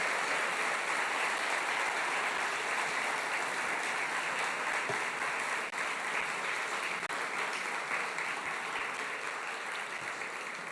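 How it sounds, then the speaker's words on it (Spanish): A large audience at a university's academic-year inauguration ceremony applauds steadily and loudly, a dense, unbroken wash of clapping that holds its level for the whole stretch. "De nuevo con este cariño de ustedes a través de este cariñoso y fuerte aplauso."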